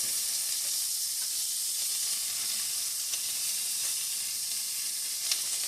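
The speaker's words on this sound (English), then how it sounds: "Go ahead in with that zucchini. Get that cooking down first." Zucchini and carrots sizzle in a hot frying pan as tofu fried rice is made, a steady close hiss with faint crackles and an occasional sharper pop, no talking.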